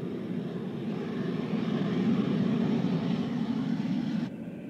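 A supersonic jet in an animated show flies with a broad, steady engine roar that swells slightly mid-pass and cuts off abruptly near the end.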